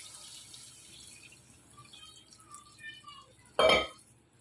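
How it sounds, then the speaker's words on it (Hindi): A short burst of water, about 1.5 kg, splashes and gushes into a cooking pot of haleem near the end, loud and close, after a quiet stretch with faint background sounds. "अब इसमें करूँगी मैं पानी शामिल"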